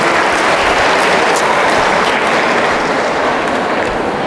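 A large audience at a university student character-building webinar session in Indonesia claps loudly and continuously, a thick, steady wash of applause close by with no talking.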